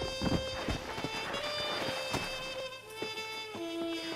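A horse in the video game Red Dead Redemption clip-clops along with repeated hoof thuds in an uneven galloping rhythm, fairly close and moderately loud, backed by a steady tonal game soundtrack.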